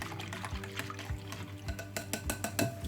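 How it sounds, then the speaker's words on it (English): A spoon stirs an activated yeast mixture in a bowl for homemade white bread, giving irregular clinks and scrapes against the bowl over soft liquid swishing, close and fairly quiet. "I'm going to stir it again very well"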